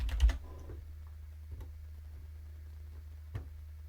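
Keys on a computer keyboard clatter in a quick burst at the start, followed by a few isolated, close, quiet taps over a low steady hum.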